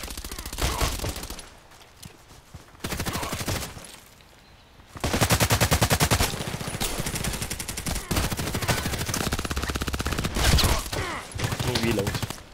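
Rapid bursts of automatic gunfire in the online shooter Contract Wars, loud and close, coming in several sustained volleys separated by brief lulls.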